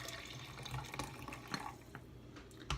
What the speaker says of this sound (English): I am pouring it into my little cup